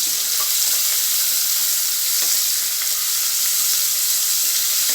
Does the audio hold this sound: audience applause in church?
no